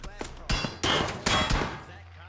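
Gunfire in PUBG comes as several sharp, loud shots in quick bursts, spaced unevenly over a couple of seconds.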